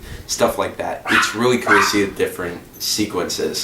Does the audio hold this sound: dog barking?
yes